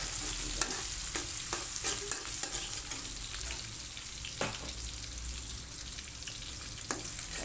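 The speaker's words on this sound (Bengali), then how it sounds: "এবার আমি কিছুক্ষণ নাড়ব।" Onion, chilli, cumin and garlic sizzle gently in a pan while a utensil scrapes and taps in quick stirring strokes, fairly quiet and close.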